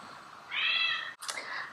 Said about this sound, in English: The cat, Lilo, she was quiet right up until I started shooting.